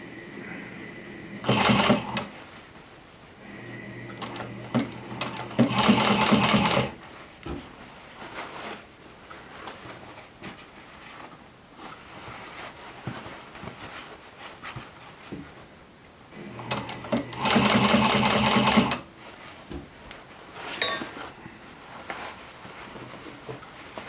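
A sewing machine runs down the seam of a pair of jeans in two bursts of close, loud stitching, separated by quieter handling and fabric rustle, with no talking.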